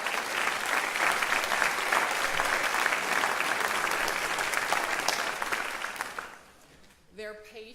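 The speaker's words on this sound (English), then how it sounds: "A round of applause for Dr. Rogers." An audience at a school cum laude and honors society induction ceremony claps in a dense, sustained burst of applause for about six seconds, then it fades out and a voice starts speaking.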